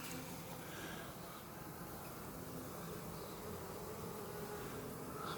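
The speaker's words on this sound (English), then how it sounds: "Wow, lots and lots of bees." A large mass of honeybees hums in a soft, even, continuous drone around an open Flow Hive during an inspection, faint but unbroken with no voices.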